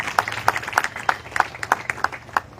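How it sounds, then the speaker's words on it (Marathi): An audience at a Dhammachakra Pravartan Day lecture gives sparse, brisk applause, a small group of clear, close claps in an uneven rhythm over a few seconds. "एकदा जोरदार टाळ्या वाजून त्यांचं अभिनंदन करू."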